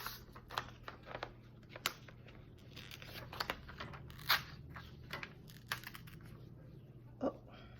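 Paper pages being torn out of a planner, heard as scattered close ripping and crinkling bursts at an irregular pace over a quiet background hum.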